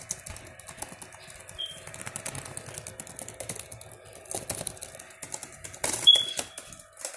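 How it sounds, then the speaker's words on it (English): Light computer keyboard typing in a quiet room, a soft, irregular patter of key presses that runs steadily throughout, faint and close, with no talking. "So I will now do the greatest typing ever."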